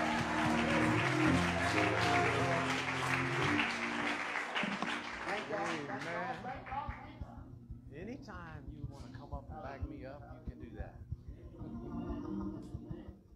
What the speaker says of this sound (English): let's clap our hands unto the Lord.